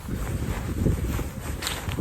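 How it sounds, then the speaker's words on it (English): Gusty wind buffets a microphone outdoors by water on a cold day, a steady low rumbling roar that holds for the whole stretch with no clear voices. "It's pretty windy outside."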